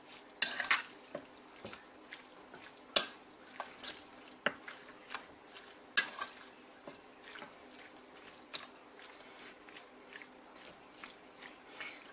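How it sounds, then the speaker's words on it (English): A fork clinks and scrapes through seasoned steak meat in a bowl, quick irregular taps and wet stirring sounds, close and fairly quiet with no talking. "I'll get a fork and just kind of mix it up here. Get the seasonings mixed in there well"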